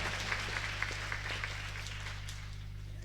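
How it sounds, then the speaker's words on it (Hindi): Faint, thin clapping from an audience at a Hindu Bhagavat Katha recitation, a few sparse claps early on over a steady electrical hum, fading toward the end. "इसके लिए मैं चाहूंगा कि जोरदार तालियों से उनका स्वागत करें"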